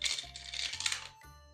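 A blue kitty-print set of tabletop dice, including a D4, is rolled, making quick close rattling clatters across a hard surface before settling, with no talking.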